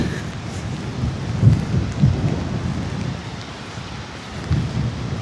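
Rain and wind sweep a misty Scottish coast at Ardrossan below an abandoned castle, where choppy sea waves break against a wave-breaker wall, giving a steady low rushing roar with a few heavier surges.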